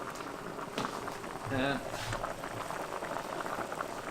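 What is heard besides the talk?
pot of water boiling on stove for chicken soup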